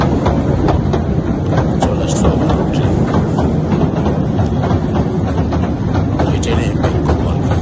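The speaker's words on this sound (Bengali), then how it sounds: "ট্রেনে" Riding aboard a moving train, a loud steady low rumble with rhythmic wheel clatter and rattling, a voice briefly speaking over it.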